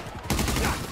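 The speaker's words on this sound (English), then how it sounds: "I accidentally shot you." A sharp burst of gunfire from a gun in GTA 5 Online erupts suddenly after a quiet start, loud and close, with a rapid rattling tail like a short volley.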